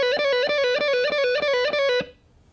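Fast electric guitar lick played up to speed, a rapid run of repeated picked and pulled-off notes that stops abruptly after about two seconds, clean and upfront with no talking.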